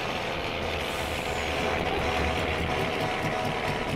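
FXZ 270 dump truck, pearl white with full front lights, in Farming Simulator 19: a steady, dense engine drone with a broad hiss layered on top, holding at an even level throughout with no talk over it.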